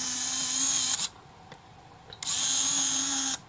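A Canon Prima Zoom compact film camera's lens motor whirs in two high, buzzing bursts about a second long each, close up, separated by a quiet pause with a small click.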